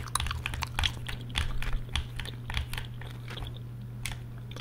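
Close, wet gum chewing in an ASMR session, soft repeated smacks and crunchy mouth clicks in an uneven rhythm over a steady low hum, with faint controller clicking mixed in.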